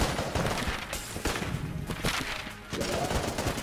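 Rapid, dense gunfire from the roguelike shooter Enter the Gungeon, volleys of crackling shots and impacts firing in quick bursts with a short lull before resuming, loud and close with no talk.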